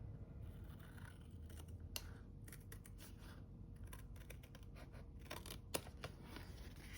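Scissors snip along a planner sticker sheet in a quiet indoor room, giving a few sharp, close cuts against a low steady background.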